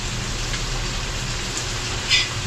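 Steady heavy rain falls outdoors on a mountain, a continuous broadband hiss with low rumble, close and unbroken, with one brief louder spatter near the end; no talk.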